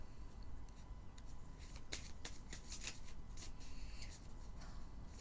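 Tarot cards are shuffled in soft, papery bursts and riffles, fairly faint and close, over low background hiss with no talking.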